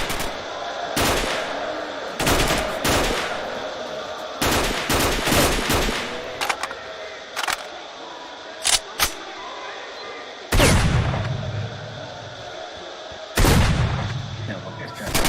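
Gunfire in S.T.A.L.K.E.R.: Shadow of Chernobyl: loud, irregular bursts of shots and short volleys, separated by quieter gaps with a steady ambient background.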